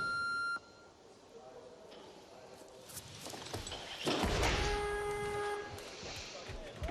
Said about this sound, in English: Probably wait for the buzzer.